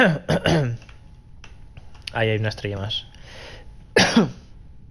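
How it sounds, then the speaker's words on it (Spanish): A man with a cold coughs and clears his throat in several short, sharp bursts, close to the microphone, with a brief spoken phrase in between and quiet keyboard clicks. "me ha entrado tosecica"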